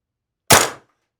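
A single sharp report from a Well Pro KS-1 air rifle, loud and close, with a quick decay and no talking.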